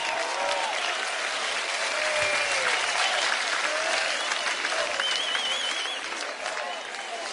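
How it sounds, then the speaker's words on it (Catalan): A large crowd at an outdoor commemorative rally applauds steadily for a speaker, a thick, sustained roar of clapping with faint whistles and a few voices rising through it. "Un aplaudiment per ella"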